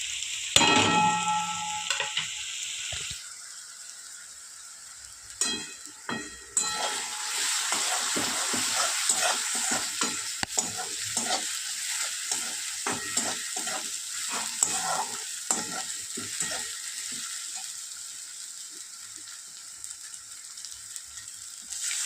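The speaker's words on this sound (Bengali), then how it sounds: "আমি কিছুক্ষণ রান্না করে নেব আদা রসুনের কাঁচা গন্ধটা যাতে চলে যায়" Ginger garlic paste and ground spices fry in a pan while being stirred, a continuous sizzle with repeated scraping and clattering strokes throughout, close and fairly loud, no talking.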